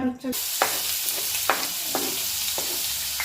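Chopped onion frying in two ladles of hot oil in a pan, cooking toward golden; a steady close sizzle carries a few sharp scraping stirs spaced through it, with a brief voice at the very start.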